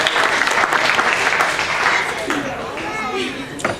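An audience applauds steadily at a comedy hypnosis show, a dense wash of many hands clapping that fades gradually toward the end, with a few cheers mixed in.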